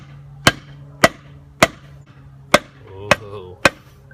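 A hammer taps six times, evenly spaced about half a second apart, pressing pipe tobacco. The knocks are sharp and close, with faint murmuring between them.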